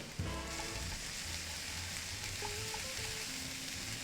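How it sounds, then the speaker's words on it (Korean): Sliced mushrooms and chives fry in margarine in a pan, giving a soft, steady sizzle with faint clinks of stirring. "버섯이 추가돼서 마가린을 좀 더 넣고 버섯을 마가린에다가 잘 볶아줄 거예요"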